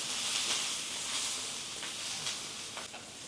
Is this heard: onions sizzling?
yes